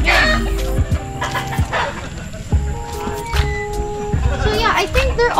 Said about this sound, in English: This is another breed of chickens. They're really big.